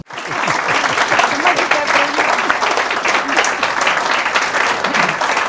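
Sustained audience applause at a talk with anti-colonial resistance fighter Adolfo Kaminsky, dense steady clapping close and loud throughout, with a few voices murmuring beneath it.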